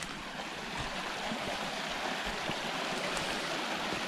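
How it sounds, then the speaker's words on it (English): Rain-swollen stream water flows near a beaver dam, a steady broadband rushing and gurgling that fills the whole stretch evenly at moderate distance. "As you can see, the water's flowing good."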